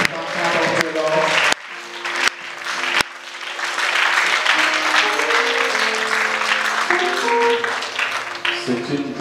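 A church congregation at a Sunday service applauds in acclaim of the Lord, a steady crowd clapping that rises and falls over several seconds, partly under music and voices.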